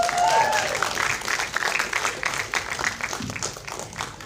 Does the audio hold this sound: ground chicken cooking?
no